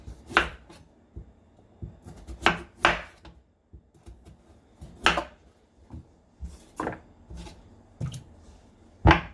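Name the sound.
knife cutting through sweet potatoes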